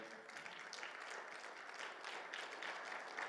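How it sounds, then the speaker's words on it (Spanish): A congregation at a church Bible class breaks into applause, a dense wash of clapping that holds steady from start to finish, fairly faint and without speech on top. "¿Cuánto dan un fuerte aplauso al Señor, por favor?"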